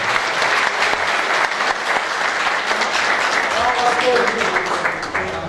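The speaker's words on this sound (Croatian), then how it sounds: "Još jedan veliki aplauz za gospodina Radovana." Sustained audience applause for an honoured guest at a pigeon fanciers' gathering, dense steady clapping from a sizeable crowd filling the whole stretch, with a faint voice briefly audible underneath.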